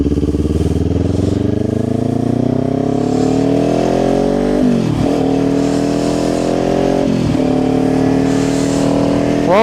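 A motorcycle revs and rides past on an open road, its engine loud and close with rising and falling pitch, and two more sweeping passes follow near the middle and end.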